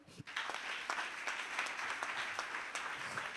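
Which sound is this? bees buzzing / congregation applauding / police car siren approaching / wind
congregation applauding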